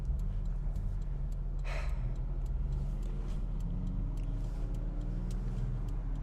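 Car traffic in Los Angeles rumbles as a steady low drone with faint ticking and a brief whoosh of a passing vehicle, continuous throughout without talk.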